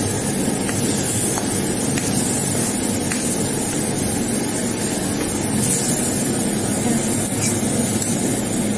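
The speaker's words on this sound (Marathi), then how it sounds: "आता आपण याला परतून घेऊ" Food stir-fried in a hot pan gives a loud, steady hiss throughout, with a few faint clinks of the spatula against the pan and no speech.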